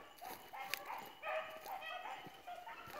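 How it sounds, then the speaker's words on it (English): Several rabbit hunting dogs barking and yipping in quick, overlapping bursts outdoors, fairly faint and at moderate distance. "Four dogs going to work."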